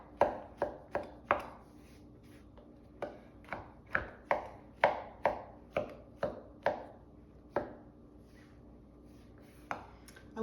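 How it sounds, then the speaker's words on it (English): Green beans for a casserole being rough chopped with a knife on a cutting board, a string of sharp, close knocks in uneven bursts with brief pauses between groups. "rough chop them. They don't have to be anything fancy"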